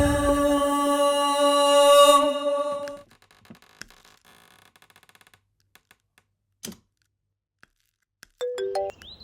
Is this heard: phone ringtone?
yes